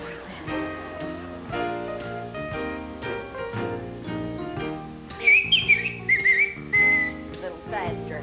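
A person whistles a short melodic tune in clear, warbling notes over talk and musical accompaniment.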